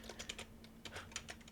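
Quick keystrokes rattle across a computer keyboard in short bursts during a hacking walkthrough, quiet and close, with a faint steady hum beneath.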